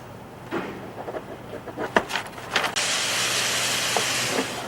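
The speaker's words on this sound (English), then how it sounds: "I sort of like the shushy noise it makes when the steam comes out." A laundry press in a prison laundry clatters with a few sharp knocks, then releases a loud, sustained hiss of escaping steam that runs to the end.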